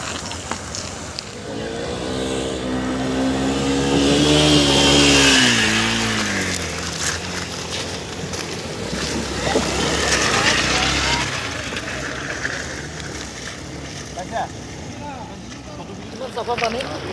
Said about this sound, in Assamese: আপোনালোকে চাই যাওক আমাৰ বাইকবোৰ পানীৰ ওপৰে কেনেকৈ যাব